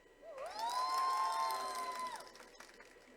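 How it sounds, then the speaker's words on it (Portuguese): Seminar audience at a public-speaking talk cheers, a long rising and held whoop from voices over a crowd, with scattered clapping underneath and a quieter tail. "eu quero pedir uma salva de palmas para vocês que estão aqui"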